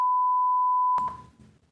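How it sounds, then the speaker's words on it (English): A steady pure-tone censor beep sounds for about a second, loud and clean, then cuts off into a faint trailing bit of room noise. "Let me get my beep beep."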